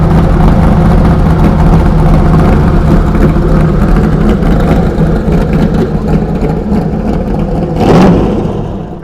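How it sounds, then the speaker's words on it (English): A De Tomaso Pantera with an American V8 engine runs loud and close at a car show, its deep steady rumble continuous throughout and swelling near the end. "it's a Tommaso Pantera, arguably American, well certainly an American engine."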